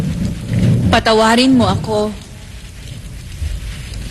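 Heavy rain pours with low thunder rumbling underneath, while someone speaks briefly in Filipino over the storm.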